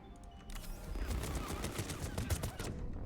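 Rapid gunfire from Mass Effect 3 during a fight against a clone: a dense, continuous rattle of fast shots at moderate volume, mixed with game noise and no talk.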